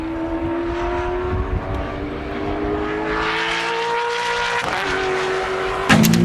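A Corvette race car drives laps at the Joliet Autobahn track, its engine droning in a rising tone as it passes, with a sharp burst of engine noise near the end.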